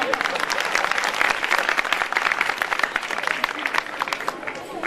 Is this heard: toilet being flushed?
no